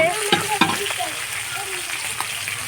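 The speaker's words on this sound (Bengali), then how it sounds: "এদিকে মাছের মাথা ভাজা হচ্ছে" Fish heads frying in a pan at an outdoor family New Year picnic, a steady sizzle with a few louder spits and stirring scrapes, voices faint in the background.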